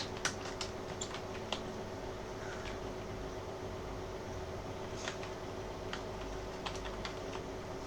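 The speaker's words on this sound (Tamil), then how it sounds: "அவரோட பேரை டைப் பண்ணிக்கோங்க" Keys clatter on a computer keyboard at a ration card reprint service counter, light irregular taps over a steady fan-like hum, no one speaking.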